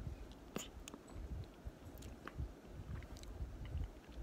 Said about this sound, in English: I'm eating my late night snack here.